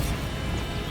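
A Bombarda blasting spell goes off in Hogwarts Legacy, a dense, loud crashing burst with heavy low rumble that sustains for about a second, no voices over it.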